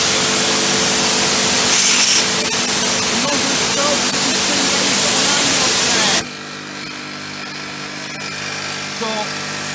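An Interpump TX15150 415-volt three-phase pressure washer runs and sprays water, a loud, dense hiss for six seconds that cuts abruptly to a quieter motor hum with light clicks.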